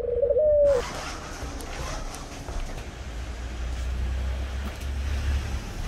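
A single pigeon gives one close, clear coo at the very start, then fades into quiet outdoor ambience with a faint low traffic rumble.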